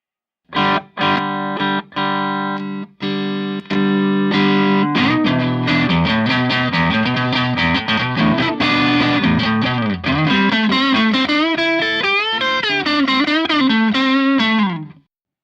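Electric guitar through a Fulltone OCD overdrive pedal, a few clean picked chords at first, then a loud, thick overdriven riff of bent notes and fast phrases that stops abruptly.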